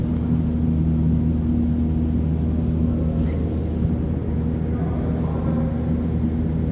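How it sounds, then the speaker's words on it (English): Ventilation units hum steadily in a Montreal Métro tunnel, a constant low droning rumble with a faint tonal whine, loud and unbroken throughout. "listen to the ambient sound for a minute or so, or at least a few seconds, of the metro ventilation units in the tunnel"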